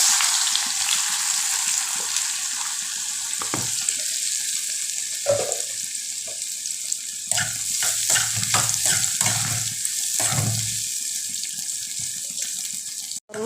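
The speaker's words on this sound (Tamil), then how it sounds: "எண்ணெய் வெங்காயம் போடுறேன்" Onion frying in oil for a velipparuthi stir-fry, heard as a steady, close hissing sizzle with splashy bursts of stirring and no talk.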